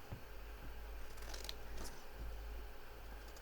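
Scissors snipping through paper ephemera for an altered notebook, a few quiet close cuts over a steady low hum, with no talking.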